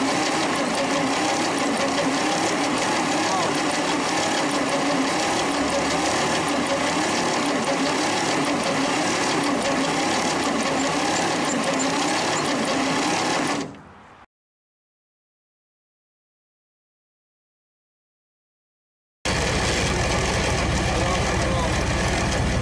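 An old Worthington truck/tractor engine running roughly, skipping on one cylinder, a steady loud rumbling chug that cuts out abruptly into silence for several seconds before resuming.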